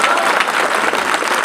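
A crowd of listeners at a poetry recital in Sitamarhi claps loudly and steadily, a dense wash of hand claps close by with no talk over it.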